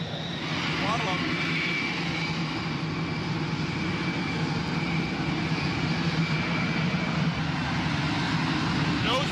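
An F-35 fighter jet engine throttling up, a loud, sustained roar with a steady whine holding across the whole stretch, close and unbroken, with no talk over it.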